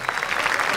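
Audience applause for Cape Verdean journalists at a public event, a short, dense burst of crowd clapping, fairly close and even.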